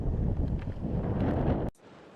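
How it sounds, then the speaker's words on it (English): Strong wind gusting across a microphone at a lakeside, a loud, dense, buffeting roar that ends abruptly into quiet. "it was way too windy to talk to the camera here"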